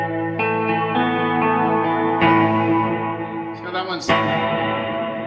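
Electric guitar ringing through a spatial reverb pedal, sustained chords blooming into a wide, washy tail at steady loudness while someone talks over the playing.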